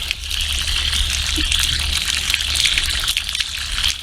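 Water gushes and splashes continuously, like a running stream being poured or rinsed, fairly loud with steady hiss throughout.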